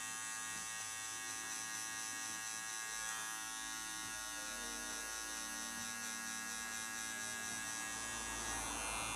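An electric hair clipper with a guard comb cuts hair for a mohawk fade, giving a continuous close buzz with a slight shift in pitch as it moves over the head.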